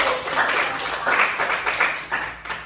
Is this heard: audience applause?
yes